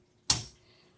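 A 1937 Royal Model O manual typewriter as its margin stop is pressed and dragged into place, giving a single sharp metallic click that dies away quickly.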